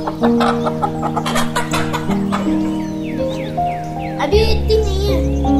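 Chickens cluck among backyard fowl that are not yet fully feathered, with busy overlapping calls and a low steady hum running underneath throughout.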